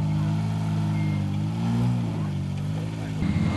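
An off-road 4x4 competing in a national challenge event pulls away and gets airborne, its engine a steady loud drone throughout, with a commentator talking over it.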